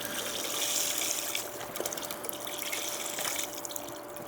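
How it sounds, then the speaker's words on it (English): Chicken broth pours from a carton into a cooking pot, making a steady splashing, gurgling liquid stream that runs for several seconds at close range with no talking. "So you just pour it in."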